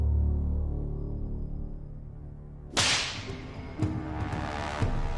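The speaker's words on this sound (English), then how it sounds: "They will test the effect of the whip on a pig carcass." Whip lashes striking a pig carcass: three sharp cracks land about a second apart, loud and close, after a low rumbling lead-in.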